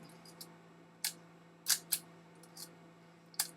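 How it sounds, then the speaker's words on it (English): Braun Gloriette camera shutter release clicking, several sharp dry clicks spaced irregularly over a low steady hum, close up with no talk. "You get a bit of a different sound out of that shutter release."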